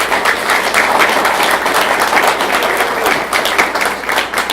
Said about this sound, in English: So how about one more round of applause for these?